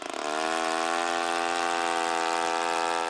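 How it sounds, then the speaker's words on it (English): A gas-powered auger drills holes through lake ice on Lake Champlain, its small engine revving up quickly and then holding a loud, steady, buzzing drone close by with no talking. "he went right to work drilling our holes"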